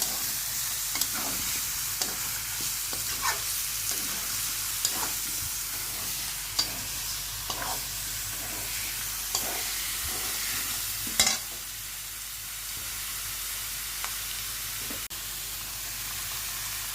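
Meat fries with garlic in a pan while it is stirred, giving a steady soft sizzle and hiss with regular spoon scrapes and taps every second or so, close up and without talk.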